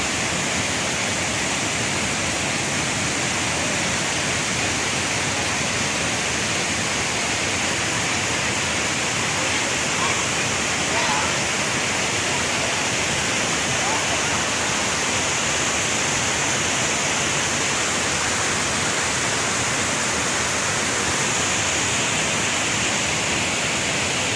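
A steady, loud roar of falling water fills the whole stretch, dense and unbroken like a nearby waterfall, with no other distinct sounds, at Tad Kuang Si waterfall near Luang Prabang, Laos.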